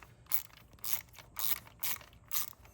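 A ratchet works an 8 mm bolt loose on a Ford Focus engine during an intake cam position sensor replacement: five short bursts of close, crisp clicking, evenly spaced, with quiet gaps between strokes.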